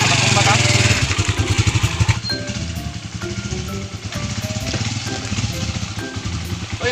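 A motorcycle engine runs nearby with a throbbing, uneven idle and some revving. Voices talk over it and partly mask it.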